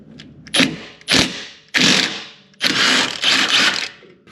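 Wrench or ratchet loosening a 15 mm bolt on the front bushing of a Chevy Cobalt lower control arm, four or five loud, close, separate bursts of metallic ratcheting with short pauses between them.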